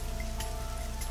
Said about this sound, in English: This rain is awful.